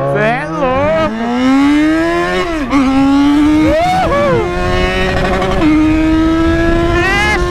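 XJ mini motorcycle engine revving while riding, a loud, close buzzing drone that rises and falls in pitch through repeated throttle swells, with people talking over it.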